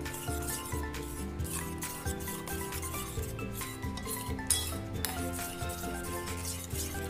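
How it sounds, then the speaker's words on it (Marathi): A spoon stirring ghee and powdered sugar together in a bowl, soft continuous rubbing and scraping with light clinks, quiet and close with no talk. "मी हे आता व्यवस्थित मिक्स करून घ्यायचे."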